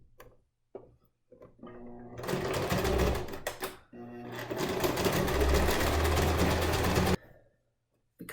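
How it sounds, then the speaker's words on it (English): A sewing machine stitches a seam on a bag made from a T-shirt, running in two long continuous bursts with a brief pause between them, fairly loud and close, with a few short stops and clicks around the runs. "I'm actually gonna sew the seam twice just to make it extra secure, because this is gonna be a bag."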